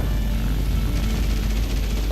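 Fast jet aircraft engine in the video game War Thunder, a loud continuous roaring whine that stays steady and close throughout, with no talk.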